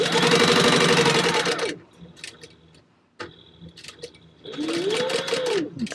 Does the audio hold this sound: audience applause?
no